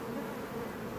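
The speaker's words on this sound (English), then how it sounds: "Got bees falling off there." A freshly swarmed colony of honey bees hums in a dense, steady drone, close and continuous with no talk over it.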